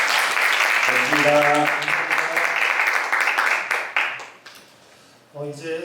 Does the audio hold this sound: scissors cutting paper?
no